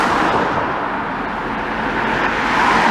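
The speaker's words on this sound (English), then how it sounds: "I heard cars coming" Cars pass on a road near traffic lights in Blackpool, giving a steady broad roar of tyres and engines that swells slightly toward the end, fairly loud and continuous.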